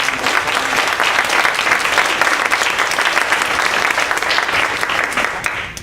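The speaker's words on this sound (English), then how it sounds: "Can we give them another round of applause?" Sustained, dense applause from an audience honoring a panel of women at an event, steady and loud clapping throughout with a faint crowd murmur mixed in.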